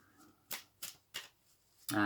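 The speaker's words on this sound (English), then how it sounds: "Both decks are being pre-shuffled, so it's just finding the energy coming in." Two tarot decks are shuffled by hand in a few quick, close riffling bursts spaced about a third of a second apart, ending in a louder final flutter, with no speech.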